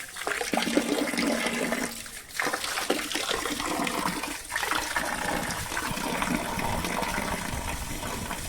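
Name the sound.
water gushing from tank cleaning pump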